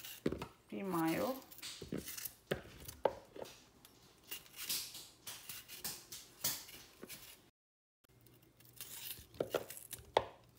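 Knife strikes on a cutting board as bell peppers are chopped, in irregular bursts of quick cuts with pauses between them, over faint background noise.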